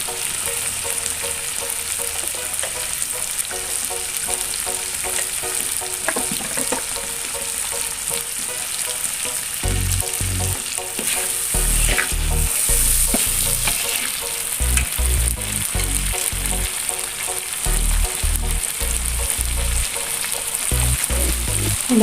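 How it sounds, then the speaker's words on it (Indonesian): Chili peppers frying in a pan with a tablespoon of salt added for Padang balado cassava crackers, a continuous sizzle that grows busier midway with frequent spatula scrapes and clacks. "Sekarang kita goreng cabenya ya Bunda."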